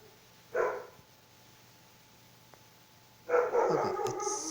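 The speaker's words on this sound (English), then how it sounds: "the dog's barking." Dog barking indoors, one short bark early on and then a louder, longer run of barks near the end, with quiet room tone in between.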